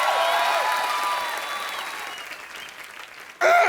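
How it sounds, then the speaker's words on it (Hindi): A studio audience at a comedy TV show applauds loudly at first, the clapping gradually thinning and fading before a sudden burst of noise at the very end. "ताली बजाओ रे इंडियन आइडल पर।"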